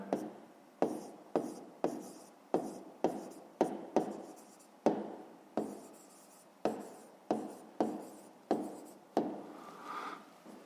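Pen strokes on paper during a fifth-grade maths exercise, a steady run of about fifteen short scratching bursts, each a quick stroke followed by a soft tail, close and alone with no talk.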